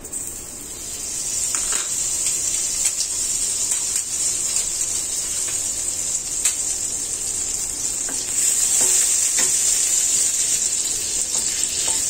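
About two tablespoons of oil with butter sizzle in a pan while curry chicken is being started, a loud, even, close hiss that holds steady throughout.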